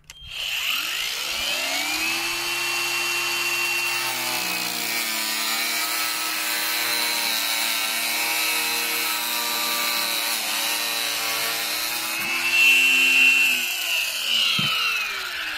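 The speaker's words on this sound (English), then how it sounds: "Right, starting an angle grinder." An angle grinder cuts through a PVC pipe, starting with a rising spin-up and then holding a loud, continuous whine and buzz that swells briefly near the end before winding down.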